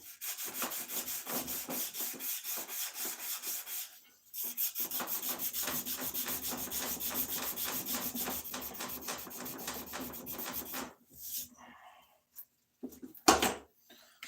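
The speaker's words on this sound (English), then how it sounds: "we'll hit it with some sandpaper too" Sandpaper rubs back and forth across a wooden axe handle in quick, rhythmic strokes, close up, with a short pause before resuming and a few knocks near the end.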